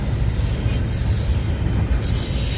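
Norfolk Southern freight train rolling past at Lindale, Georgia: a loud, close, continuous rumble of wheels and railcars with a steady low-end roar and faint rail squeal, no talking.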